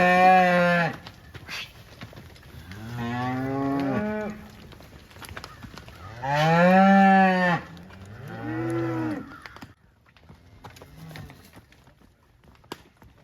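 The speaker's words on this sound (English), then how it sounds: "Separating these 500 to 600 pound calves away from their mother for the first time is no easy task" Cattle moo loudly and repeatedly as 500 to 600 pound calves are separated from their mothers for the first time on an Ozark ranch, long bellowing calls from several animals, some near and some farther off.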